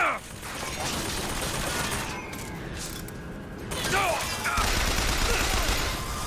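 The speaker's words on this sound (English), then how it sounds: "Where they shoot? Where are you shooting from?" Gunfire in BioShock Infinite sounds as bursts of shots over a dense game soundscape, loud and continuous, with clattering impacts and a voice speaking in the background.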